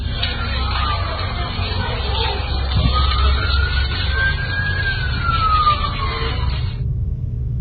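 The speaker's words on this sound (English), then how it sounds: "there are some faint sounds of sirens in the back" A wailing siren rises and falls at a distance, sounding under a steady low rumble of traffic or wind.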